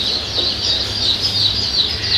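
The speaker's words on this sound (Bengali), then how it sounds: "দেখুন অরিজিনাল এ গ্রেডের জিন্ডিং খাকি ক্যাম্বেল হাঁসের বাচ্চা" Khaki Campbell ducklings peeping in a constant high-pitched chorus of many overlapping chirps, loud and close with no voices over it.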